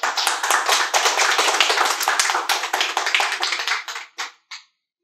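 An audience at a motivational mind-power workshop claps in a dense burst of close hand claps that thins toward the end, leaving a few last isolated claps before silence.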